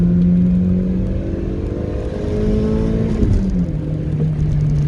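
A Toyota MR2 accelerates in second gear with a loud, steady engine drone whose pitch climbs, then dips briefly around a shift before continuing, heard from inside the car.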